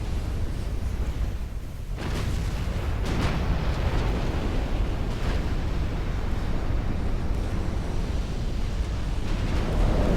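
Naval battle in Ultimate Admiral: Dreadnoughts, with a continuous low rumble of explosions and gunfire over a wash of wind and sea, plus several sharper blasts standing out.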